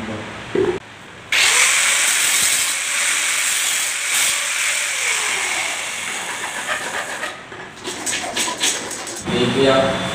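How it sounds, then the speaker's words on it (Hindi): A grinder works the inner edge of a hall partition with a loud, sustained hiss and whine that drops off briefly near the start. The noise wavers, then cuts out near the end before starting again, and someone speaks between runs. "तो उसको पहले थोड़ा ग्राइंडर से घिस देते हैं"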